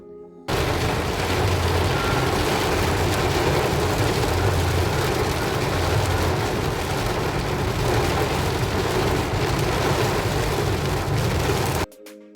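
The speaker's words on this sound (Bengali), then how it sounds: "খুব জোর বৃষ্টিটা হয়ে গেল" Heavy rain pours down in the Matheran hills as a dense, steady roar that starts abruptly, holds unbroken for about eleven seconds, then cuts off, with no voices.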